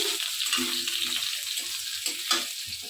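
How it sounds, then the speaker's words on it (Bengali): Pointed gourd (potol) frying in a pan at home, a close, steady sizzle of hot oil with soft stirring scrapes and occasional louder spits. "এখানে পটল ভাজা করছি"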